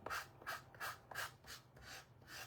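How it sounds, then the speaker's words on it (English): Excess material being scraped off the edge of a paper craft project, heard as faint rhythmic rubbing strokes, about six in a row, close up with no talk. "so I'm going to scrape that off"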